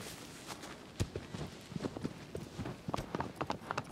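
Horse hooves clip-clop at a walking pace across ground in the video game Shadow of the Colossus, a quiet irregular series of near hoofbeats with no talk over them.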